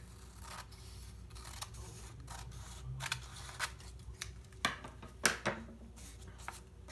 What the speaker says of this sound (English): you're going to cut off the excess trim